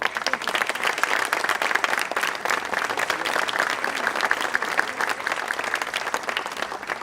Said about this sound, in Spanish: Un aplauso para, por favor, les pido, para la mesa de honor.